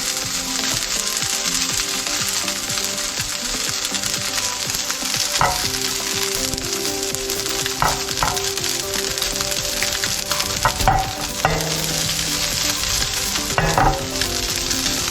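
Small pieces of fish frying in a pan until crispy and brown, a dense, steady sizzle and crackle with occasional stirring scrapes throughout, close and fairly loud.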